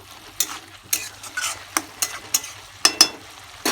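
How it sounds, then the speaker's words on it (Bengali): Green chillies are stirred into snake gourd frying in a pan, heard as about ten distinct, close spatula scrapes in an uneven rhythm over a faint sizzle. No one speaks. "লঙ্কাগুলো দিয়ে ভালো করে নেড়ে নেব"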